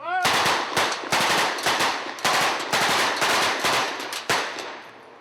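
Tommy machine guns loaded with blanks fire on a film set in loud, sharp bursts, several rapid volleys separated by brief pauses, close and dominant throughout.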